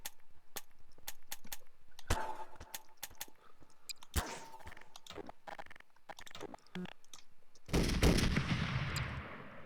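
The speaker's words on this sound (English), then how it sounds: "Basic machine gun." A .50 caliber machine gun fires inside the Garry's Mod game, giving sharp, dense bursts of rapid shots with a heavier roaring volley near the end, loud and close with no voices.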